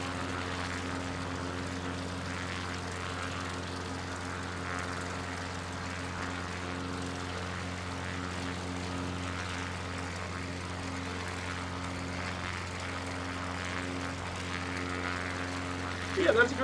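Steady drone of a propeller airplane engine in a flight simulator game, a constant hum with harmonic tones running throughout, with talk over it.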